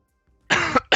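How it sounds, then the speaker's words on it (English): A sick man coughs twice in quick succession, close and loud, two harsh bursts separated by a brief pause after a moment of silence. "apologize for the coughing"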